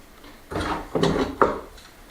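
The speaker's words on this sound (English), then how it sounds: "And we'll just clamp him" A clamp is fitted and tightened on a glued pine kitchen piece, giving three short, close wooden scrapes and knocks in a quiet workshop.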